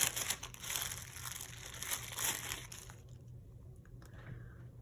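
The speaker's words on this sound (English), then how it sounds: "Remove the ball of clay from the plastic bag." A plastic bag holding a ball of air-dry clay crinkles and rustles up close in busy bursts for about three seconds, then stops, leaving near quiet with a faint handling noise.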